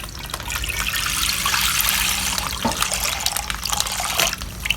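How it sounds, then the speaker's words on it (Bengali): Half a kilo of milk pours in a steady, close liquid stream, continuous and fairly loud, with a faint trickling texture and no talk. "এখন আমি আধা কেজি দুধ দিয়ে দিতেছি"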